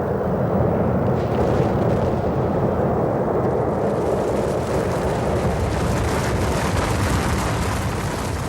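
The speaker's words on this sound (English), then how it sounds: "There they go right now. You can hear the rumble and see the flames." Rocket lifting off, a loud, continuous deep roar and rumble that stays sustained and heavy throughout, with crackling texture on top and no voices.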